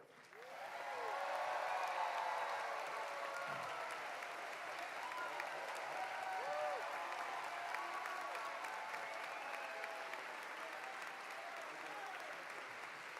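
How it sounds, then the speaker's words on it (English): Steady applause from a university commencement audience for the Fairfax Four, a performing group, rolls on evenly for over ten seconds at a moderate distance, with faint crowd murmur underneath. "can we have a round of applause for the Fairfax Four?"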